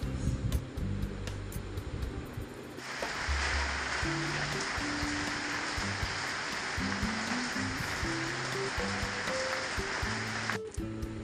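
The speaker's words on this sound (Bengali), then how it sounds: "প্রচণ্ড বৃষ্টি হচ্ছে" Heavy rain falls outside during a long monsoon downpour, a steady wash of water noise that swells after a few seconds and continues loud, with faint low tones and household sounds underneath and no talking.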